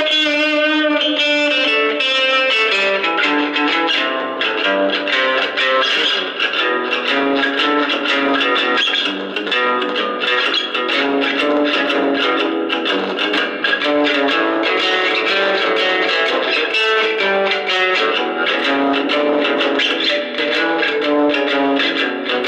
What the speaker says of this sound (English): with the electric guitar, you can now hear a little bit of distortion now